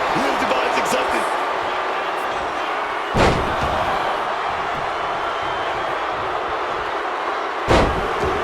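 Two heavy wrestling slam impacts from the WWE 2K26 video game, including a face buster, land as thuds a few seconds apart over steady crowd noise and continuous commentary.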